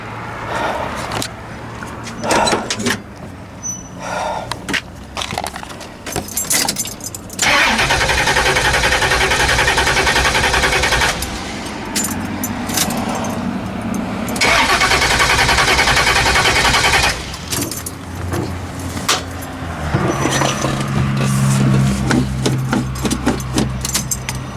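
A car engine in rural Kentucky, with the fuel line just reattached to the carburetor, cranks in two long loud bursts with pauses between them, then catches and runs with a steady, close idle.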